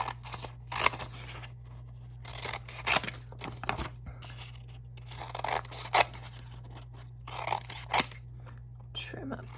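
Scissors trim paper for a handmade bee-themed journal, giving a series of sharp separate snips spaced a second or two apart over a low steady hum.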